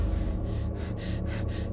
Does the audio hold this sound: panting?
yes